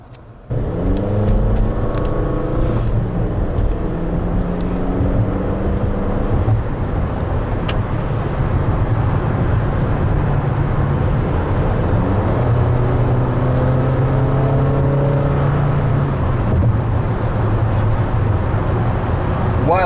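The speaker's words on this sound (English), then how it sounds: "While expressway acceleration in this RAV4 is certainly more than adequate, you are aware that this is a four-cylinder engine." A 2020 Toyota RAV4 Limited with a four-cylinder engine accelerates along an expressway, its engine note climbing steadily over a constant road and wind rumble inside the cabin, with no talk.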